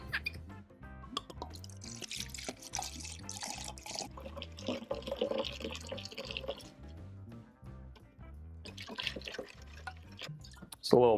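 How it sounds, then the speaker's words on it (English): Wild Turkey 101 bourbon poured into homemade eggnog, a steady liquid glug and trickle close by, running for several seconds against faint kitchen background noise. "So next we're gonna add our alcohol. I have Wild Turkey 101 bourbon."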